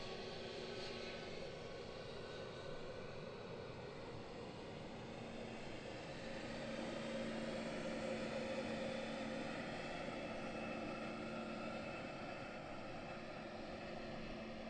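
An aircraft taxis past on the Gatwick Airport airfield, a steady droning engine roar with sustained tones holding across the whole stretch at moderate distance.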